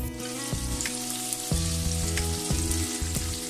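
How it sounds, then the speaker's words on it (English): Tofu slices frying in a pan for a vegetarian sinigang, a steady close sizzle with sharp crackles and a few clunks as pieces are moved around, no talking. "Now let's turn over the tofu slices so we can brown them on the other side."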